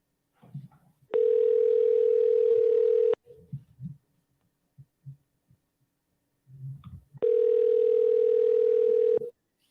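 A telephone ringback tone plays while a call is being placed, sounding as two long, steady electronic tones, each about two seconds, separated by a pause with faint background noise.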